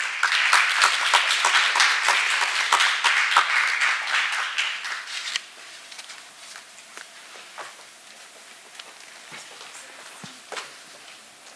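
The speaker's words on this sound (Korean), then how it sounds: "세션 3에서 오늘 활약해 주신 젊은 분들께 박수 부탁드립니다." An audience at an international martial arts centre academic seminar applauds loudly for about five seconds, then the clapping thins abruptly to scattered claps and shuffling footsteps in a quieter room.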